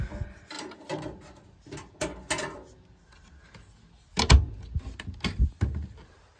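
Wooden drawers in a 1974 GMC Canyon Land motorhome being opened and shut, a string of soft knocks and sliding rattles early on, then a louder cluster of bumps and thuds near the end.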